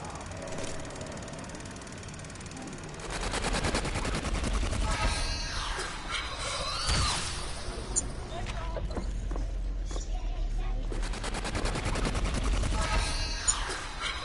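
Automatic rifle fire from an RPK and a G11 in the Black Ops zombies map Kino, sustained bursts of gunfire with engine-like rumble and game effects, loud and continuous, with a voice talking over it.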